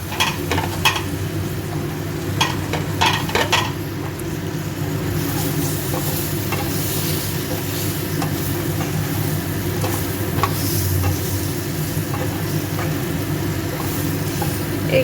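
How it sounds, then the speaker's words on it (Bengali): Flat beans and brinjal fry in a little oil with spices, giving a steady, close sizzle with occasional stirring scrapes throughout, and no talking. "সিম বেগুনগুলো ভাজা ভাজা হয়ে গেল"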